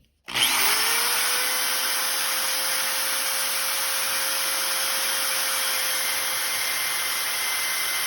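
A power drill fitted with a combination countersinking bit spins up from silence and runs at a steady high-pitched whine, close and continuous, with no talking.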